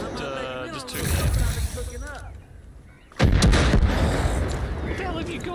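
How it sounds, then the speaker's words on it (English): A big explosion in the video game Far Cry 5 bursts in loudly after a brief lull, a heavy boom trailing into sustained blast noise, with gunfire and game audio before it and a voice talking over parts. "That big explosion."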